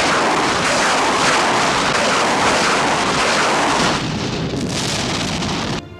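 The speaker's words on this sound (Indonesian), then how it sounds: "Bahkan Uni Soviet mengeluarkan senjata andalannya, yaitu Katyusha" Katyusha rocket artillery fires in a war film as a loud, dense roar of launches and blasts that fills the whole stretch, easing slightly near the end.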